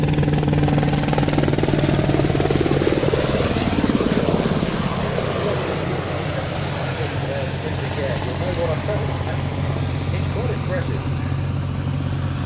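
A former RAF search and rescue helicopter hovers nearby, a loud, continuous rotor and turbine roar that eases slightly midway, with a voice talking over it at times.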